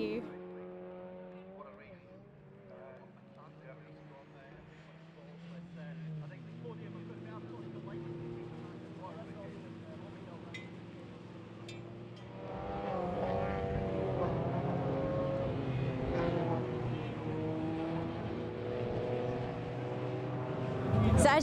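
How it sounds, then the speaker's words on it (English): Mini Cooper race cars idle together on the starting grid for race 3 of the Celtic Speed Mini Cooper Cup, a steady layered engine drone that swells louder about halfway through, with voices faintly underneath. "the cars are all lined up, ready to go for race 3 of the Celtic Speed Mini Cooper Cup"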